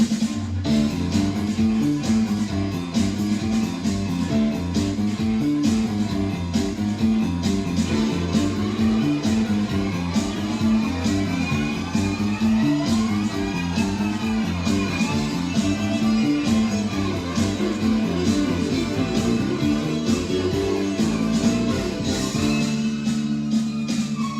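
A fast, busy country fiddle tune plays over a full band with driving rhythm and bass, loud and continuous throughout, with no voices.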